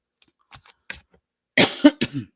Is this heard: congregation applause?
no